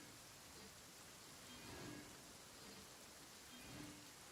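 Steady rain falls in the video game Genshin Impact, a soft, even hiss of downpour with faint swells, heard quietly and alone without any voices.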